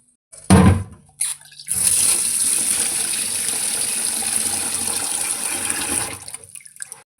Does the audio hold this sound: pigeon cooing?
no